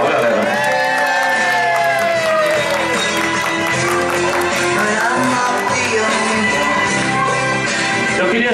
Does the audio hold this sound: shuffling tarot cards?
no